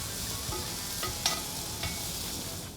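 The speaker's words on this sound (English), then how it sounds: "a little olive oil, some garlic, and some onion. And I'm gonna saute this down just a few minutes" Garlic and onion sautéing in olive oil in a hot skillet, a soft, even sizzle with occasional light clicks of a utensil, fairly quiet and with no talking.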